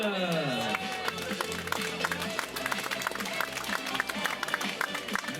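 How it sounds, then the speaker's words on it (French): A crowd claps steadily and continuously at a 5 km road race prize ceremony, the Corrida de Seurre 2026, a dense wash of applause with a French voice audible early on. "on applaudit bien fort Séverine."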